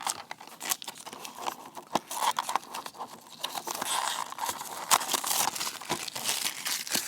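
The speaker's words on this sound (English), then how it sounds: "So let's just cut the shrink wrap here." Plastic shrink wrap on a MINI GT model car box is cut open and peeled off, giving close, busy crinkling and tearing with a few sharp snaps, continuous throughout.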